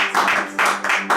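A church congregation breaks into applause, with dense bursts of clapping swelling and dropping in three waves over a second, loud and fairly close.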